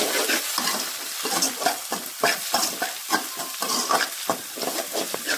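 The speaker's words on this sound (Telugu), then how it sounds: "మంచిగా కలపండి." Egg mixture with a little turmeric being stirred in a hot pan, rapid repeated scraping strokes over a bright continuous sizzle, close and fairly loud.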